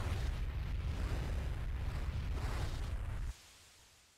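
A Fire spell cast in Final Fantasy 4, a dense roaring burst of crackling noise sustained for about three seconds and then cut off abruptly, leaving a fading tail.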